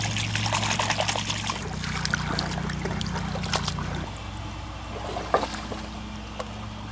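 Water sloshes and trickles steadily as a clump of roots and dirt is panned for gold, with faint splashes, a low engine-like drone underneath and occasional knocks.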